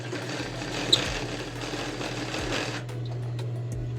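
Sewing machine stitching along the collar edge of a women's blouse, a close, steady motor whir with rapid needle chatter running almost continuously, easing briefly near the end.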